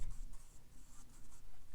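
A paintbrush strokes across cheap paper while colouring in a DIY birthday card, giving quiet, close scratchy swishes in short repeated bursts with brief pauses between.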